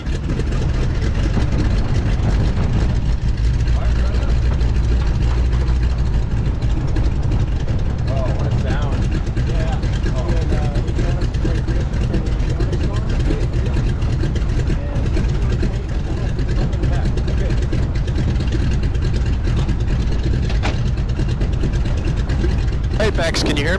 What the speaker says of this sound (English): Once we get 6 blades, go to both, and the engine should start.